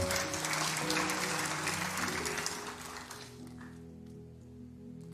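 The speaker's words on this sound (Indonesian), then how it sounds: "Anda boleh tepuk tangan." A church congregation claps together during a service, a broad wash of applause lasting about three seconds and then tapering off while low sustained organ or keyboard tones carry on beneath it.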